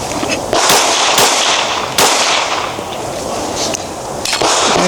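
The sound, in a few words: handgun shots fired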